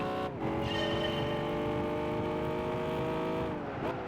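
Car pushed hard into corners on the Nürburgring GP circuit in Gran Turismo 5, a loud sustained engine whine holding steady revs, with brief dips at the start and end as it shifts and brakes.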